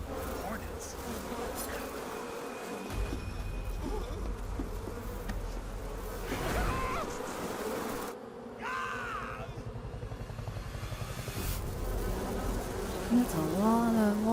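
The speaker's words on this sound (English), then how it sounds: "That's a lot of wasps to do that." Wasps swarm with a dense, steady buzzing drone in the stealth action game Metal Gear Solid 3: Snake Eater, the hum filling the scene continuously alongside other game sounds and brief voices.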